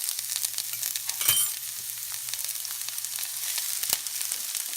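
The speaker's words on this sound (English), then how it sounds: "right after I'm gonna put this onion." Onion sizzling in a hot pan for baingan bharta, a continuous near crackling hiss with a few sharper pops and a low steady hum underneath, no talking.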